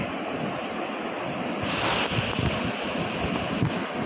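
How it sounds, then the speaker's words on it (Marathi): A river in full spate rushes with a continuous broad roar of water, mixed with wind buffeting the microphone and a brief louder gust near the middle. "नदी एकदम तुडुंब वाहते"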